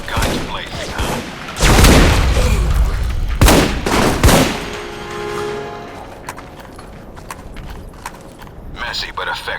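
A gunfight in Alpha Protocol: several heavy bursts of gunfire and booming impacts come close together, then die down into quieter scattered noises, with voices talking in the background.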